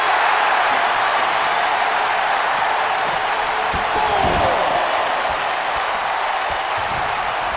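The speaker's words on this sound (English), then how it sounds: "Kareem Alpha feeling this crowd. This crowd are on their feet." A wrestling crowd on its feet cheering and applauding fills the arena with a constant loud roar, with a few dull thuds in the middle.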